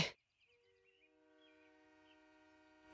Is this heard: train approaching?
yes